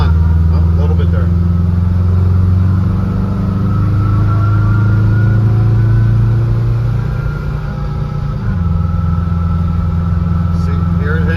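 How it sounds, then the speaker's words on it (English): Transmission gear whine from a VW bus fitted with a Subaru engine, a steady tonal drone riding over loud, continuous low engine and road rumble while driving, with a shift partway through. "You'll hear the gear whine"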